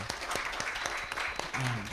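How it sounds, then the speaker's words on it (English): Brief applause from an audience at a Women's International Day celebration, a scatter of claps that is fairly loud and close, with a voice breaking in near the end. "So give a clap hand for yourself."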